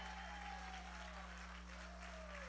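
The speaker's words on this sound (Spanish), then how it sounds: "Dale fuerte el aplauso al Señor." A congregation applauding steadily, dense sustained clapping heard from a distance over a constant low electrical hum.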